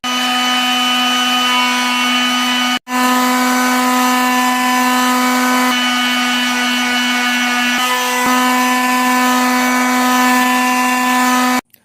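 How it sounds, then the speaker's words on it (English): A power sander works over a wooden prop for an Aquaman hook hand costume, a loud steady drone with a strong tonal whine that runs continuously, broken by one brief pause near the start. "But now we gotta go sand and stuff."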